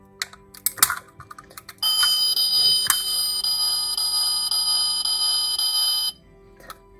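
A Bumblebee Chevrolet Camaro 1/32 diecast toy plays a different car alarm: scattered clicks, then a bright, continuous electronic warbling tone for about four seconds before it stops abruptly, followed by a faint click.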